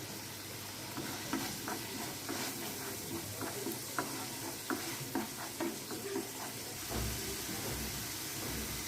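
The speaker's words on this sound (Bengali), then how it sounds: "মশলাটাকে ভালো করে কষিয়ে নিব" Spice paste being sautéed with red chili powder and coriander powder for an egg korma: a low, soft sizzle under repeated scraping stirs of a spoon against the pan.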